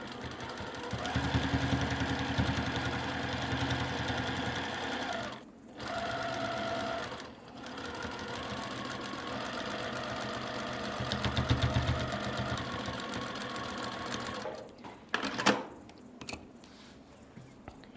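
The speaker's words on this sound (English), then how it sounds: "we'll just start stitching from one side to the other with that same 1/4 inch seam" A sewing machine stitches a 1/4 inch seam across a quilt block, a steady fast mechanical whir running on and off with short pauses, close and loud, with no speech.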